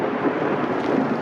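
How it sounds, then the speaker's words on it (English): Steady rain pours without a break, with a low thunder rumble mixed in, loud and close for just over a second. "rain falls"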